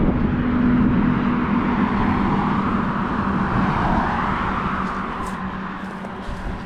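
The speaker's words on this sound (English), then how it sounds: "A lot of traffic on this road." Road traffic on a busy route sweeps past in a continuous wash of tire and engine noise, loud at first and easing slightly toward the end.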